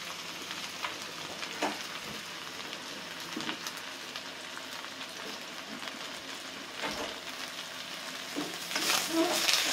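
Cabbage and onion stir-fried for pansit in a pan, a steady close sizzle with scattered scraping stirs, growing louder toward the end, with no talking.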